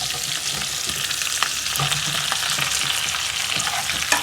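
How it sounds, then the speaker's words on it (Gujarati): Cut Gujarati patra rolls go into hot tempering seasoned with asafoetida, giving a loud, close, continuous sizzle with faint crackles and a few scraping clicks. "હવે જે આ વાટા આપણે કાપીને રાખ્યા છે એ આપણે આ વઘારમાં નાખી દઈશું."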